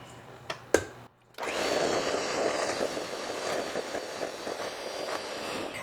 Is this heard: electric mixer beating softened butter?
yes